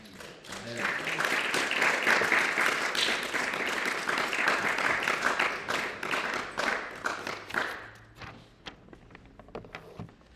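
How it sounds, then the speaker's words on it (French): A church congregation at a French-language service applauds in loud, dense, sustained clapping that gradually thins into scattered claps near the end. "Acclamons pour le Seigneur"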